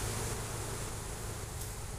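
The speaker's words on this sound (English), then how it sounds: "And look at all the bees we got here." A swarm of honey bees near a bearded catch box hums as a steady, close, continuous buzzing drone, with no voices.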